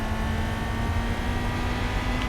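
Steady car engine drone from Gran Turismo 4, a constant, even hum at a steady pitch, with no voices.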